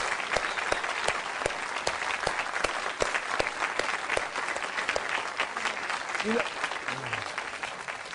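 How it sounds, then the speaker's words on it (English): Studio audience applause from a talk-show taping, a steady dense clapping that fills the whole stretch, with a brief voice surfacing near the end. "I think Carolyn deserves a big round of applause"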